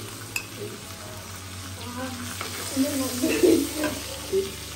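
Golda prawns frying in hot oil in a pan, a soft steady sizzle with bursts of crackling and spatter as pieces are turned, close and moderately loud.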